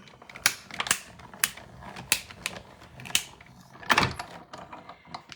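A paper card is cranked through an embossing machine between stacked platforms, giving a run of irregular mechanical clicks and ratcheting knocks with one heavier grinding thump, close and moderately quiet, with no speech.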